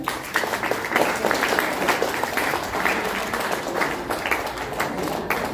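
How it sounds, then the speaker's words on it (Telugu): An audience of students and guests claps at a state-level school arts festival in Vijayawada, sustained applause with a dense patter that holds steady for several seconds. "అన్నవాళ్ళు గట్టిగా చప్పట్లు కొట్టండి"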